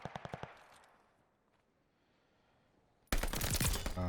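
Rapid burst of video-game gunfire, a quick string of five or six sharp shots right at the start, then near silence before a loud, dense blast of noise cuts in.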